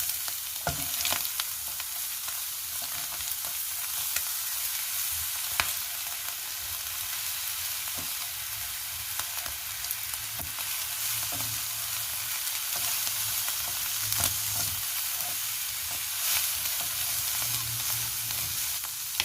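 Bean sprouts stir-frying with egg in a pan of pad thai with grilled chicken, a continuous loud sizzle broken by scattered spatula scrapes and light clatters, with no speech.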